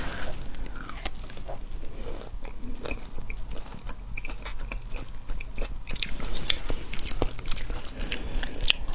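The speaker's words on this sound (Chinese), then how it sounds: "今天咱们来尝一下这个叫佛手果。" Close, crisp biting and chewing of Buddha's hand citron fruit, with repeated crunchy snaps and wet mastication over a steady rustling background.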